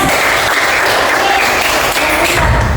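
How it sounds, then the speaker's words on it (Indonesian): Schoolchildren clap together in an elementary classroom, a loud, dense, continuous burst of applause that holds steady without pause. "Tepuk tangan."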